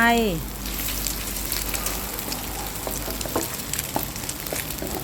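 Cucumber and dried shrimp are stir-fried in a hot pan, giving a steady, close crackling sizzle with occasional sharper spatters.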